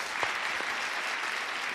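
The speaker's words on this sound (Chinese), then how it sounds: "掌声欢迎啊" Studio audience applause on a Chinese TV job-seeking show, a steady dense patter of many hands clapping, moderately loud and continuous for the whole stretch with no voices on top.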